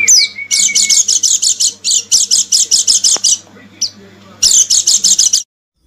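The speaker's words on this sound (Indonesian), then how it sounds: "Pleci dakun tuh bunyi birahinya seperti ini." A dakun white-eye (pleci) delivers its mating call, a loud, close run of rapid high chirps repeated in quick pulses, pausing briefly before one final burst, then stopping abruptly.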